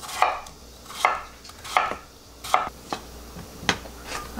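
Firm knife chops through raw potatoes on a board, cutting them into big chunks, about six solid strokes at a steady, unhurried pace, close and clear with no talking.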